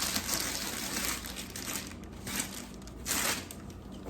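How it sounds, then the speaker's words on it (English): Plastic bag crinkles softly in bursts, rustling and crackling as it is handled close up, with a couple of sharper crackles near the end. "It did come wrapped in this plastic bag."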